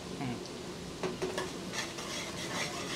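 Garlic and ginger frying in a pan for chicken sukka, a steady close sizzle under scraping stirs, with a few brief utensil clinks over about three seconds.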